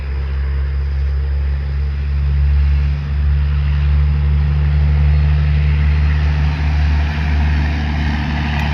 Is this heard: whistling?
no